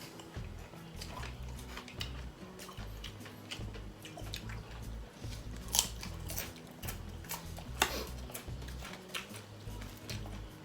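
Crunchy chewing of Thai som tam with fried pork rind, close to the mic: irregular crisp bites and crackles, moderately loud, with no talking.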